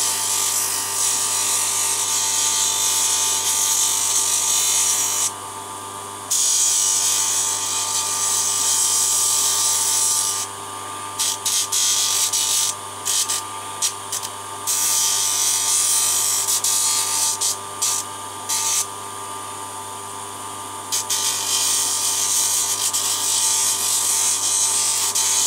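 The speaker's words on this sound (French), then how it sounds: "après donner un petit coup de ponçage pour finir proprement. Voilà pour le ponçage, un petit coup sur les bouts." Small wooden pegs for a tit birdhouse get their ends sanded in a loud, continuous abrasive hiss up close, broken by several brief pauses and stop-start passes.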